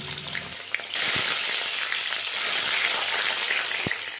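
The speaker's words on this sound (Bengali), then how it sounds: "তেল ভালো করে গরম হয়ে গেল এখন দিয়ে দেবো ডিম" An egg drops into hot mustard oil in a wok and bursts into a loud, close, steady sizzle that keeps crackling to the end.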